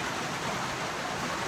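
Continuous even wash of afternoon rain outdoors by the sea, a dense unbroken hiss filling the short stretch, no talking.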